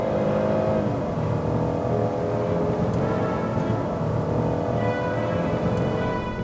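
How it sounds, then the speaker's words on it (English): A 2017 Genesis G90 luxury sedan with a V6 accelerates, its engine a steady, smooth rising drone mixed with road and wind noise, heard from inside the car without a break for several seconds. "even the V6 delivers the kind of swift, effortless acceleration synonymous with proper luxury brands"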